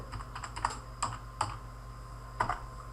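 Keystrokes on a computer keyboard as a palette name is typed in AutoCAD, a few quiet, irregular clicks in short bursts with pauses between, close and soft, no voices.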